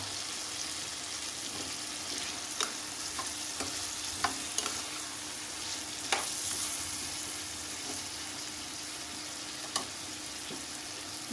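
Potatoes and eggplant fry in a pan with a steady sizzle, broken by sharp scrapes and clinks as the mixture is stirred at irregular intervals.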